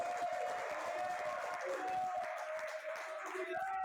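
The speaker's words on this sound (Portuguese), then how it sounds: "Posso ouvir uma forte salva de palmas?" A church congregation applauding, dense clapping with a sustained tonal hum or music underneath, steady and fairly even in level for the whole stretch.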